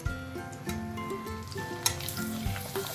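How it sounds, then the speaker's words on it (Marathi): Jowar papad fry in hot oil with a lively, continuous sizzle and bubbling, punctuated by a couple of sharper pops as pieces are flipped, over a faint tonal background. "आता हे ज्वारीचे पापड मी तळून दाखवते."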